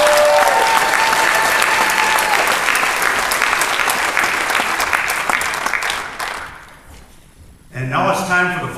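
An audience gives the flag team of a marching show loud, sustained applause. The clapping fades over several seconds, and then music starts.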